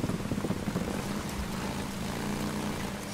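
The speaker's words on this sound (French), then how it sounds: "Bah il pleut toujours dans le jeu." Steady rainfall in the video game Days Gone, a dense continuous patter with a low rumbling undertone and no voices.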